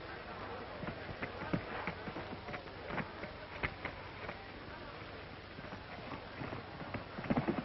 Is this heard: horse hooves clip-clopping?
yes